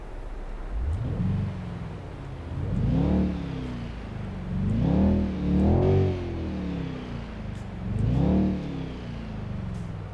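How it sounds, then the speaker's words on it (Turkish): Mercedes-Benz X167 GLS-Class truck engine in Euro Truck Simulator 2 cranks and starts, then revs in several rising and falling surges before settling to a steady idle rumble, with no talk. "Hemen aracımızı çalıştıralım."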